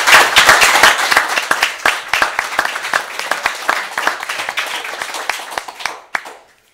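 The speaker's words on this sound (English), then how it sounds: "Let's give our new board a welcoming round of applause." A small audience at an inaugural school board meeting welcomes the new board with a steady round of distinct, close hand claps that gradually thin out and stop near the end.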